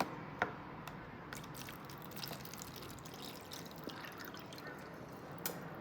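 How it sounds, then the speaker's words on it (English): Water is poured from a glass into a Tupperware container, giving faint splashes and a few quiet drips against a hushed indoor background. "If I do try to tip this glass all in here"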